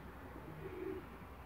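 A pigeon coos softly in a loft of long-distance racing pigeons, a brief low throaty call in the middle of a quiet, steady background hum.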